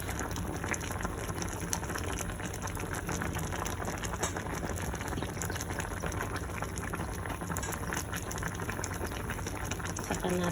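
Okra cooks in a covered pot with a continuous dense bubbling and simmering hiss, steady and fairly loud throughout, with no one talking.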